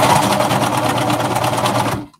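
A sewing machine stitching knit fabric for a skater dress, running in a fast continuous whir close up for about two seconds before cutting off abruptly.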